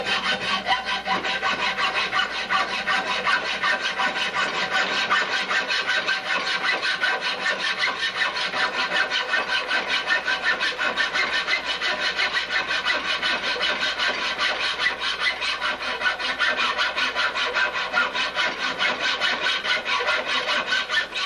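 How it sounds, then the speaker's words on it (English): A poor-quality hacksaw cuts through a rod in a homebuilt aircraft workshop, producing a loud, close, rapid and steady rasping stroke rhythm that continues unbroken throughout with no talk. "Piece of junk hacksaw"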